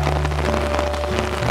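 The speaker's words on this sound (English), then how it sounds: "This is a lot of rain." Heavy rain pours onto a raspberry patch, a dense, loud, continuous hiss of drops hitting leaves and ground nearby, with no voices over it.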